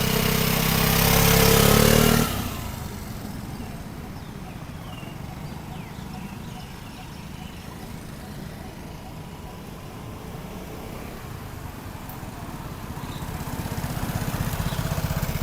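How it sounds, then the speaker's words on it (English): A scooter engine putters in a steady, close low rumble during a slow ride with throttle held on and rear brake applied, preceded by a brief loud wind-like burst and swelling slightly near the end. "So my throttle is on, rear brake's applied. Watch what happens when I release the brake."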